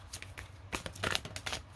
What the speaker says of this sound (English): So two shuffles here, please